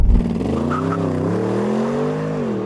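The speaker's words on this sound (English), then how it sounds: "Left on the brake, floor the throttle, launch control." Bentley Bentayga Speed launching hard under launch control, a loud close engine roar climbing steadily in pitch through the gears with no talk.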